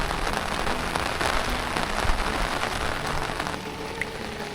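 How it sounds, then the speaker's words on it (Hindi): Heavy rain pours in a village during strong wind, a dense, steady patter on surfaces and standing water, loud and close throughout, with no speech. "मैं बारिश से बचने की कोशिश कर रहा हूँ और हवा काफ़ी तेज़ है।"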